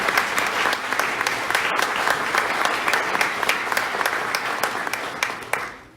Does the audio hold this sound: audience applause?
yes